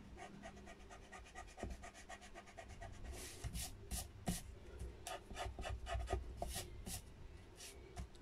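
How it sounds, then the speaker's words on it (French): A pencil line is rubbed out with an eraser on paper while making a pop-up album page, producing quiet, rhythmic scrubbing strokes that quicken and grow denser in the second half. "je gomme celui de l'intérieur que je m'étais trompé"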